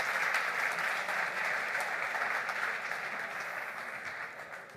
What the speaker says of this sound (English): Please make a big round of applause for these guys here.